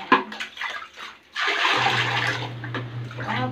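Water splashes and gushes into a toilet bowl dusted with baking soda, short pours at first, then a sustained rushing flow with a low steady hum underneath.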